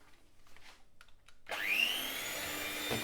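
An electric mixer beats eggs and buttermilk into scone dough. After a quiet start it switches on abruptly into a steady, loud, high whirring drone that runs to the end.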